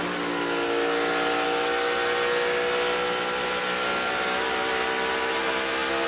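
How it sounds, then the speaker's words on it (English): A NASCAR stock car holds steady throttle through a corner at a race, with a continuous loud engine drone that stays level and unbroken, no voices over it. "I want you to listen to his throttle going through the corner."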